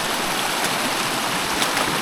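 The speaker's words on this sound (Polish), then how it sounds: "Niezła akcja, patrzcie, kaskady." River water rushes over rocky cascades in a continuous, broadband roar, steady and fairly loud throughout.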